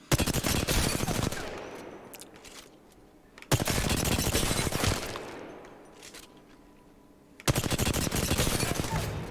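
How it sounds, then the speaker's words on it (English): Hip-fire gunfire at a target in Apex Legends: three long, loud bursts of rapid automatic shots, each several seconds long and separated by short gaps. "work on your crouch spamming as well while you're hip firing"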